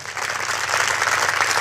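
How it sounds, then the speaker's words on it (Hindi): A large crowd at a Gayatri mahayagya and youth festival claps hard with both hands raised, the applause swelling from a softer start into loud, dense, continuous clapping with no voices over it. "जोरदार ताली बजाइए"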